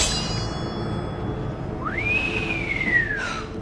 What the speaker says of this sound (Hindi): उसे चिढ़ाते हुए वो सीटी मारता है